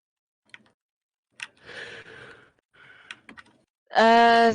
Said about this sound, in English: I'm just messing around with my keyboard.